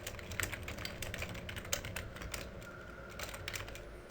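Rapid, uneven typing on a computer keyboard, close and fairly quiet, the key clicks running continuously over a faint steady background hum.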